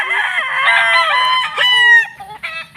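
A claret gamecock rooster crossed with a roundhead, straight-combed, crowing loudly and close up, one long drawn-out call followed by a shorter broken trailing crow.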